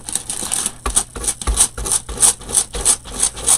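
A transfer being rubbed onto a wooden door hanger ornament, a series of rhythmic scraping strokes, about a dozen in quick succession, close and distinct with no talking over them.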